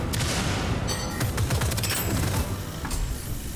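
An epic primary weapon firing in the shooter Deadzone: Rogue: dense, rapid automatic gunfire with heavy booming impacts, loud and continuous for a few seconds with no speech.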